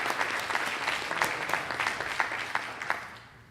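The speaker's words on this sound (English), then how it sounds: "So I think, David, you deserve a round of applause." An audience applauds a physician, Dr. McLean, at a medical meeting, a steady patter of clapping from a moderately sized crowd that holds for several seconds before tapering off.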